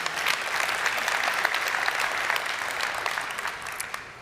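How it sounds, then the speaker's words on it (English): Steady, dense audience applause fills a large assembly hall at an international assembly, continuous and even throughout, with no voices over it. "Yes, you can clap for that."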